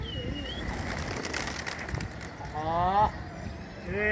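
Fancy pigeons coo softly amid outdoor background noise while being fed, with a few bird calls and faint fluttering, fairly quiet overall.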